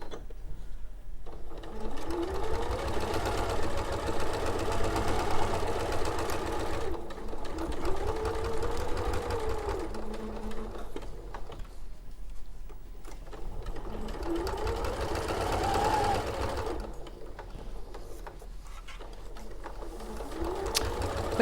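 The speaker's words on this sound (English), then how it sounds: "And we do stitch all the way around this." A sewing machine stitches around the edge of a William Morris-style green quilt, running in long steady bursts of rapid mechanical whirring separated by short pauses, with faint talk in the background.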